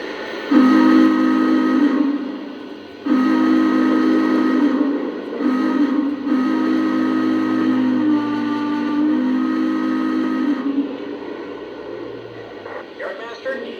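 Four model railroad locomotives idling together as a horn-like whistle sounds in several long blasts, followed by a low engine drone as they pull out, with radio-style chatter in the background.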